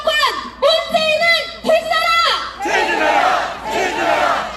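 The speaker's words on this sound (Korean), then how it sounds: "다시 한번 박수 한번 부탁드리겠습니다." A crowd at a Korean political rally shouts in rhythmic unison, with several loud, drawn-out chanted calls. These give way to a broad, sustained roar of cheering voices, loud and close.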